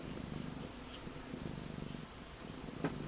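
A cat purrs steadily while being petted, a soft, close, low rhythmic rumble that continues throughout with no talking.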